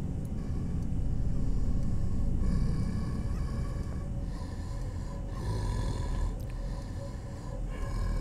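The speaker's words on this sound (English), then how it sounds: "Is that me snoring? It's probably me snoring." Someone snoring in bed, a steady rumbling drone with breathy rises and falls, close and fairly loud throughout, with no talking.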